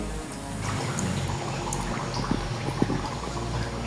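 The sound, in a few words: pitha cakes frying in oil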